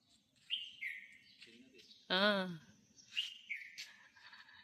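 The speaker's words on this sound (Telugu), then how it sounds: "అక్కడ ఆ మామిడి చెట్లు ఉండే కోకిల ఇద్దరు మాట్లాడుకుంటున్నారు" Asian koels call from mango trees during a morning walk. Several clear, whistled notes come from a moderate distance with a rising-falling pattern, and a brief voice sound cuts in between them.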